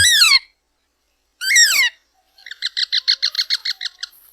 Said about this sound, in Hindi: उस घोंसले में दो तोते के बच्चे थे।